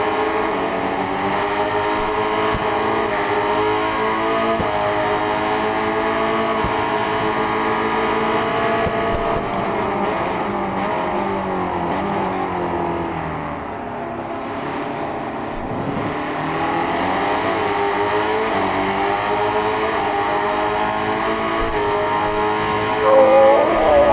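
Racing motorcycle engines in the RIDE 5 video game, Honda Hailwood Trophy race, hold a steady loud drone with rising and falling pitch through gear changes, one bike running in another's slipstream, continuous throughout.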